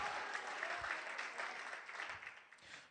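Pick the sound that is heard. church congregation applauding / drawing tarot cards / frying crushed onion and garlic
church congregation applauding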